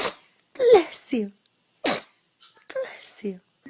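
Babies sneezing in a series of short, sharp bursts with quiet gaps between them, close to the microphone, with a small voice sound among them.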